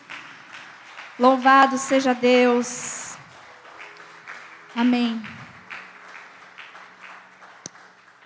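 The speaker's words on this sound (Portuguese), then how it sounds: "Dê um aplauso ao Senhor." A church congregation claps in a short burst of applause mixed with voices, preceded and followed by a speaker's amplified talk and shouts of praise.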